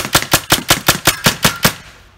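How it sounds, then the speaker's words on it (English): Rapid burst of about nine sharp, evenly spaced shots from a Tacamo Bolt G36 rifle, loud and close with no talking, each crack decaying quickly before the string stops and fades out. "Okay, let's try to do some shooting, see how it goes."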